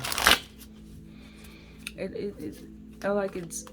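A deck of tarot cards is riffled and shuffled close up, with a quick crisp flutter at the start and softer card slides afterward, under a quiet speaking voice.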